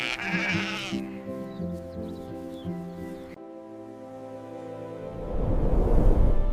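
Sheep bleat several times in wavering, nasal calls, fairly close, in a meadow, followed by a low rustling outdoor background.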